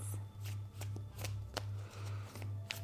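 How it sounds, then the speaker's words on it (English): Tarot cards being shuffled in quick riffles, a series of about seven soft fluttering bursts in steady rhythm, close up, with a low hum underneath. "There is always a message for me in the way that the cards shuffle, and they're really smooth today."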